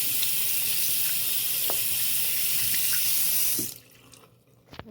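Water runs steadily from a tap over a hand being rinsed, a broad continuous splash and hiss that stops abruptly near the end, leaving near silence with a couple of faint knocks.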